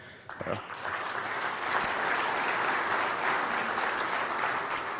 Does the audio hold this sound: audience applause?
yes